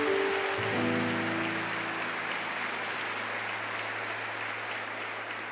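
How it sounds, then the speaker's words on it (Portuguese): Steady wash of audience applause fills a religious gathering, loud and sustained, with no voices heard over it. "Eu escutei um aplauso para o Senhor."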